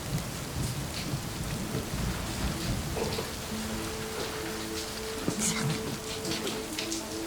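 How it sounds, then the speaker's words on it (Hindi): Steady rain pours down on outdoor surfaces as a dense, constant hiss, with a low hum and a few sharp drips, and nothing else stands out. "बारिश हो रही है ना."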